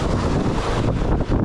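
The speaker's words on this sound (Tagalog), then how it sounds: "Ay nako, lakas ng hangin." Strong wind buffets the microphone near the sea during rock fishing at Cayukno, a steady loud roar with broadband rumble and gusts, no voices.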